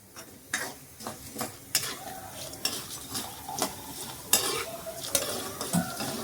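Food frying in sesame oil in a pan for a garlic pepper kuzhambu, a continuous close sizzle broken by sharp scrapes and clinks of a metal spoon stirring against the pan at irregular moments.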